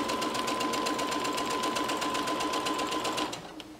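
A sewing machine stitches around the curve of a Christmas stocking, a loud, steady rapid needle rhythm that runs continuously before stopping near the end.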